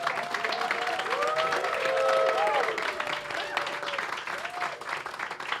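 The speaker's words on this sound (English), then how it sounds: "So another round of applause, please." An evening audience at a penthouse business event applauds steadily for several seconds, a dense continuous clapping with faint voices mixed in.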